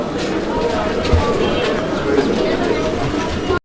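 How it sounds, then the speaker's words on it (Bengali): Pakistani racer pigeons at a farm coo softly and repeatedly amid a cluster of other birds, while someone talks over them. "এই জোড়াটা তোমার এটা পাকিস্তানি রেসার"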